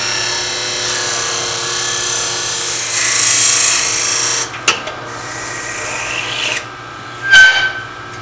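Drilling into a small wooden miniature on a lathe with the tailstock locked and speed turned down: a steady rasping, rubbing hum builds and holds for several seconds, then breaks off into intermittent scrapes and short bursts, close and fairly loud, with no talk.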